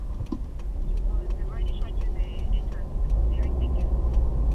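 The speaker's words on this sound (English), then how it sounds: "So I'm driving back to Great East Road." A car driving along Great East Road in the suburbs of Lusaka, Zambia, a steady engine and road rumble that holds throughout and grows slightly louder near the end, with faint chatter in the background.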